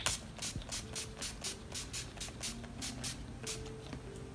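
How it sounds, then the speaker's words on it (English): A rapid series of short hissing sprays from an NYX Matte Finish makeup setting spray, about a dozen quick bursts in a steady rhythm, close and fairly soft. "I'm going to be using the NYX Cosmetics Matte Finish Long Lasting Setting Spray"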